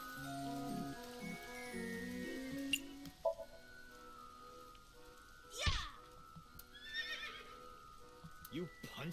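A horse whinnies within the video game AI: The Somnium Files, a game sound effect with a brief sharp cry amid soft musical tones and small clicks, fairly faint overall.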